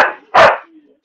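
An Australian Shepherd gives a single sharp bark, loud and close, in a quiet room.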